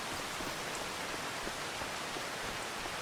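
Rain falls steadily in Farming Simulator 25 on an olive farm, a dense, even hiss of drops with faint patters, constant and fairly quiet throughout without talk.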